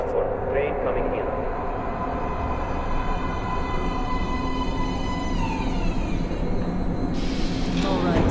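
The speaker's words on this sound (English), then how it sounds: "Train coming in." A metro train rolls into an underground station platform in Metro Last Light, a sustained heavy rumble with rising and falling tonal whines from the wheels and motors, loud and close beneath voices speaking.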